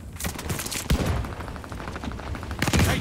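Rifle fire in Call of Duty Vanguard, a pink-skinned rifle in a multiplayer match, sounds as rapid bursts of close, loud gunshots that run almost steadily through the whole stretch, with heavier thumps near the start and end.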